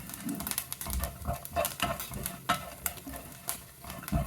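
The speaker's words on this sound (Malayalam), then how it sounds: "നല്ലോണം ഇളക്കി തന്നെ അത് വറുത്തെടുക്കണം" Quick scraping and clattering of a spatula stirring vermicelli and almonds roasting dry in a pan, a busy irregular rhythm with soft crackling underneath.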